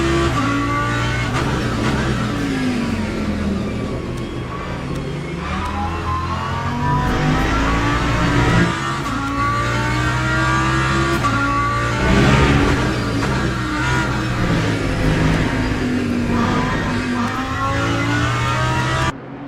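A Lamborghini GT3 race car in the Le Mans Ultimate racing game revs hard and shifts through gears over and over, its loud, close engine note rising and falling for nearly twenty seconds with no talk.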